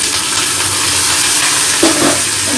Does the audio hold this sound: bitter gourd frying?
yes